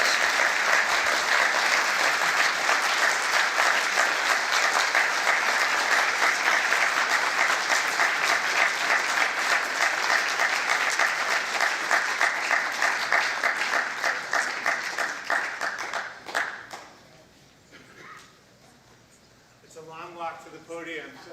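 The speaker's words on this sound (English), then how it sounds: "one more big round of applause, please, for Tracy K. Smith" Dense, sustained applause from an audience at a poetry reading for poet Tracy K. Smith, loud and steady for about sixteen seconds before thinning out and dying away, with a voice speaking briefly near the end.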